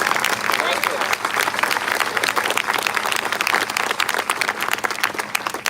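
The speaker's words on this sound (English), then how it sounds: "Give them another big round of applause" Steady applause from a crowd, dense clapping sustained throughout without pause, fairly loud and close.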